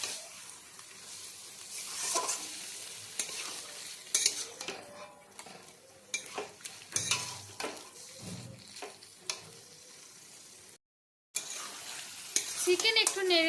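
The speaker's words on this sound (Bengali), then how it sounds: "এবার দিয়ে দেওয়া হচ্ছে দই দিয়ে ম্যারিনেট করা চিকেন। চিকেন মশলা খুব ভালো মতো মিশিয়ে নেওয়া হচ্ছে।" Yogurt-marinated chicken with spices being stirred in a hot pan, with steady sizzling and repeated scraping and clinking of a utensil against the pan; one brief silent gap near the end.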